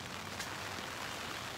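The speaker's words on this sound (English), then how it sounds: "It's been just a light rain like this most of the day." Light rain from a mild tropical storm falls steadily outdoors, a soft, even patter and hiss that holds at the same level throughout, with no voices.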